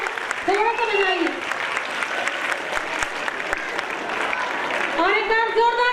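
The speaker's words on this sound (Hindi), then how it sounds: "थोड़ा तालियां बजाइए। तालियों में कंजूसी हो रही है क्या?" An audience at a school annual gathering applauds, with steady, dense clapping running throughout, while a voice speaks briefly at the start and again at the end.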